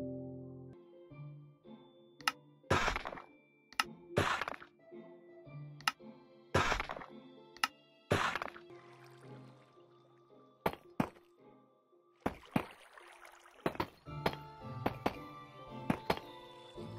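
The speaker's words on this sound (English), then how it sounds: "we have successfully placed all of the tiles down and the stairs" Deepslate tile blocks and stairs being placed on a floor in Minecraft make a series of sharp, loud thunks and knocks at irregular intervals, some in quick pairs, separated by quieter stretches of faint background.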